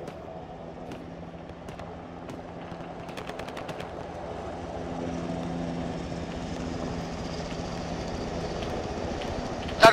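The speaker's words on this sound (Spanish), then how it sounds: "Dar humo para cubrir el helicóptero, pero guardar humo" Military helicopter in the ARMA 3 combat game, a steady rotor drone that builds gradually in loudness as it nears, with sporadic sharp gunfire bursts and clicks scattered early on, no speech.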